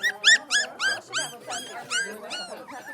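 A litter of puppies at a state capitol, heard close as a string of high, wavering whimpers and yips repeating in quick succession.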